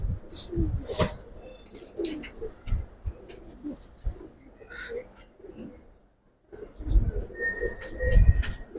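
Giribaz and silver Bagha pigeons coo in soft repeated rolling calls close by, mixed with wing flutters and shuffling, with a brief quiet gap before the cooing resumes.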